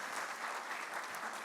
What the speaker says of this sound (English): Give that a huge round of applause.